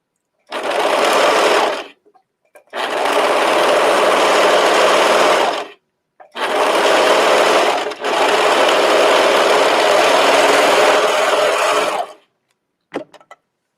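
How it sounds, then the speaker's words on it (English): A serger stitches knit fabric in long, steady, whirring runs, loud and close, stopping and restarting several times with brief pauses between bursts. "Serging looks great."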